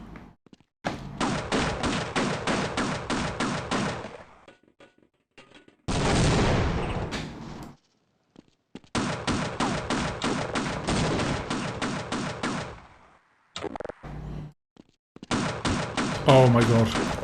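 Automated turret in the video game Half-Life 1 firing long rapid bursts, several sustained rattling volleys separated by short pauses and a loud blast, with some speech mixed in.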